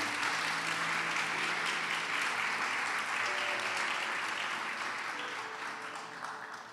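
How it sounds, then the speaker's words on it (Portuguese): A church congregation applauds with dense, sustained clapping that fills the whole stretch, easing off slightly toward the end. "Pode aplaudir, pode aplaudir."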